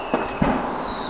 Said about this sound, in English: every time a firework goes off, you can just see the sky lighting up.